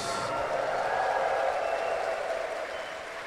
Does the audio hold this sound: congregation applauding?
yes